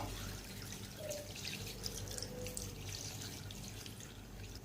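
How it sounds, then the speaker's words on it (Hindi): Three cups of water poured into a pot of chicken and lentils, a faint, steady trickling and splashing heard at a distance in a quiet kitchen, without speech. "पानी शामिल कर देते हैं"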